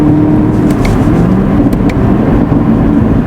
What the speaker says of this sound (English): There's the downshift.